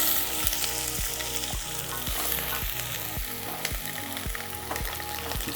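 Onions sizzle loudly in a pan in a steady frying hiss, joined by regular low knocks and crackles that keep up throughout.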